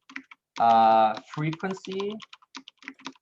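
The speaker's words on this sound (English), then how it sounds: "Are you typing it out?" Scattered clicks of typing on a computer keyboard, soft and irregular, partly under a person speaking during an online English training session.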